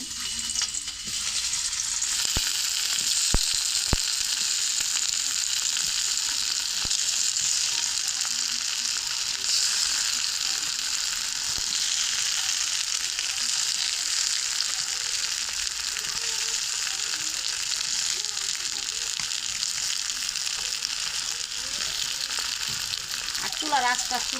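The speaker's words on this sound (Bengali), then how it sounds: "এই যে কাঁকরোলটা এইভাবে আস্তে আস্তে চুলার আঁচটা দিয়ে ভাজা করে নেব" Spiced teasel gourd (kakrol) slices fry on low heat, giving a steady, even sizzle that runs unbroken throughout, with a few faint clicks and a brief scrape near the end.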